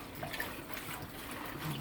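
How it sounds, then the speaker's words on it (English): Tap water runs steadily while callaloo leaves are washed under it, a soft continuous trickle and splash close by, fairly quiet and without talk. "I'm actually going to have the water running."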